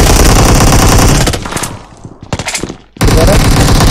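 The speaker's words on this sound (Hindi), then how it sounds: "पहाड़ी से भी शॉट आ रहे हैं" Loud rapid gunfire from a PUBG-style battle royale match, dense automatic bursts close up, dropping briefly to a few scattered shots before another sustained volley resumes.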